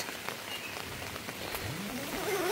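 A light morning drizzle falls at a hillside campground in Karangasem, Bali, making a steady diffuse patter and hiss with a faint rising tone in the background.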